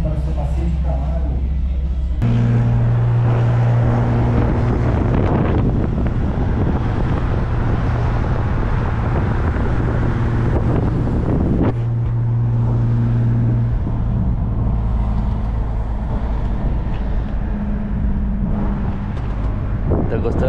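Wind buffets the microphone on an outdoor quad bike ride, a loud continuous rumbling roar with a steady engine drone underneath, and voices come through faintly now and then.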